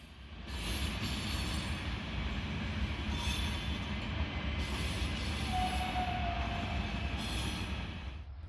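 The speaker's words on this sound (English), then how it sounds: "In the distance we can also see our train being prepared, with our locomotive and also a shunter picking out the carriages" Train being prepared at a Norwegian Arctic railway station, with a locomotive and a shunter moving carriages; a steady distant rumble of rolling stock with a faint wheel squeal partway through, no talk.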